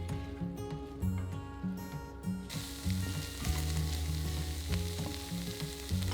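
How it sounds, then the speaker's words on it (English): Two diced onions sizzle in a pan for beef goulash, a close, steady frying hiss with repeated stirring scrapes and clinks running throughout, no voices. "add in 2 diced onions and cook for about 2 to 3 minutes, stirring often"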